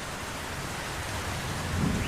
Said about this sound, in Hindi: 2 दिन लगातार ऐसे ही तेज बारिश चलती रही।